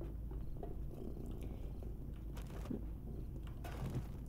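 A cat purrs close by in a low, steady rumble, with faint clicks and small shifting noises over it.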